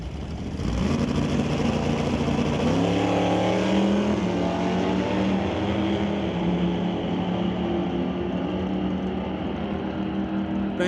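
Drag racing cars in an ET series race, including a wheel-standing Barracuda, roar down the strip in a loud, sustained engine blast with rising pitch as they accelerate away, heard continuously with crowd ambience.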